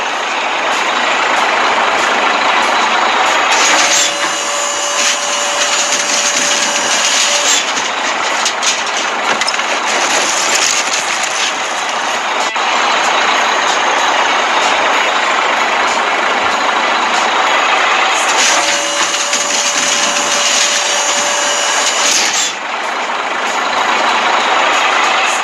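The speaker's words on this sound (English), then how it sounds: "This is a haul truck." A large haul truck, a heavy high-payload dump truck, runs with a loud, continuous engine roar for a long stretch, with shifting tonal whines that rise and settle twice.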